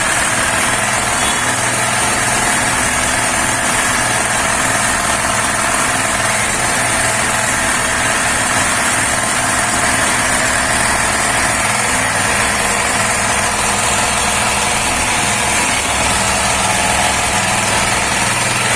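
A Honda E1000K portable generator engine runs steadily and loud, a continuous droning hum with buzzy vibration that holds unchanged throughout, with no talking.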